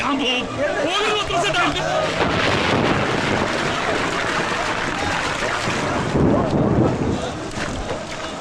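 A wind and rain storm roars at sea with loud, continuous gusting and a rushing wash of water. Voices are heard over the storm.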